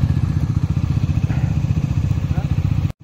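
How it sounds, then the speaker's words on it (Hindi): A motorcycle engine warms up on an icy high-altitude mountain pass in sub-zero cold, its steady low thumping rhythm loud and close for about three seconds before cutting off abruptly. "तो हमने बाइक वार्म कर दी है,"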